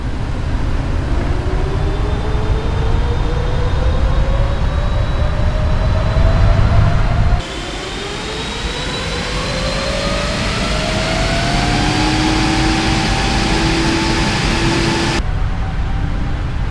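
Airliner jet engines spool up and roar through a takeoff roll in Microsoft Flight Simulator, with loud, steady thrust and rising whining tones across the run.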